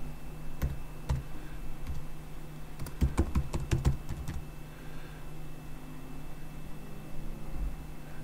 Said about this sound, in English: I'll retype in the details of the pupil